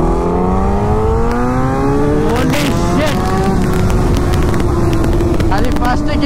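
Two motorcycles accelerate hard from a standing start, one in first gear and one in second, with rising engine whines that climb in pitch and shift gears, loud and close under speech.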